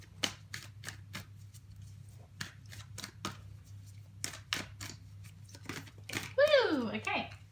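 Moonology oracle cards are shuffled by hand in a run of crisp, rapid riffles and slaps, close and distinct over a low steady hum, with a brief voice near the end.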